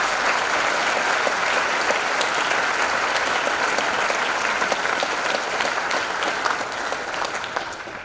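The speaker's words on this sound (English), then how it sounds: "Please give these 2 groups of past graduates a round of applause" Continuous audience applause in a school hall for groups of past graduates at an academic hall of fame ceremony, dense and even throughout the clip with slight fading toward the end.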